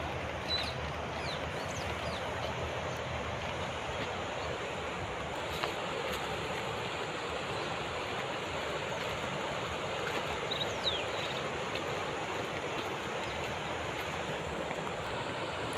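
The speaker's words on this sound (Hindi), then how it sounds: "यहाँ पर जल का बहाव तेज़ है। गहरी यहाँ पे बिल्कुल नहीं है, पर जल का बहाव काफ़ी तेज़ है।" Fast-flowing, shallow water of the Narmada river rushes in a steady, continuous wash with a faint breezy hiss, unbroken and even throughout with no talk.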